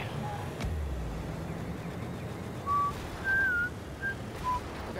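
A person whistles a few short, high tones, each held briefly before pausing, over steady background noise from a Rocket League car game.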